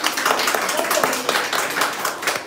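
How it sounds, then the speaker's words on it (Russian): Guests at a wedding ceremony in a Minsk registry office applaud, steady close clapping from a small crowd lasting the whole stretch, with some voices mixed underneath. "Друзья мои, аплодисменты."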